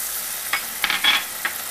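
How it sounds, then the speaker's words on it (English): Tomato puree hits a hot pan for chole masala, giving a soft hiss of frying with a few brief spattering bursts, and no talk. "Now we are going to add tomato puree"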